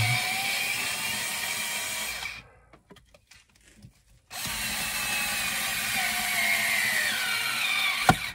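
A power screwdriver whirs close by as it drives a stubborn screw during an electrical installation. A steady buzz stops for about two seconds, then the motor resumes with another long run.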